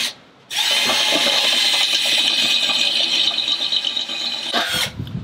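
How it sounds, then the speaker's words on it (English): Power drill boring holes into a Weber Smokey Mountain smoker grill, a loud, steady whine that runs for about four seconds after a short quiet start, then cuts off near the end. "once you start drilling holes into this Weber Smokey Mountain"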